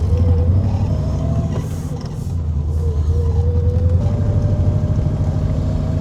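A BMW E32 735iL fitted with a swapped LS1 V8 drives along with a deep, steady engine drone and low rumble that holds throughout, gear changes shifting the pitch, with no talk over it.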